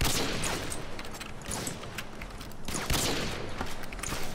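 Rapid bursts of gunfire from Modern Warfare 2 free-for-all play on PC, with dense repeated shots and sharp cracks running throughout, fairly loud and continuous with no talk over them.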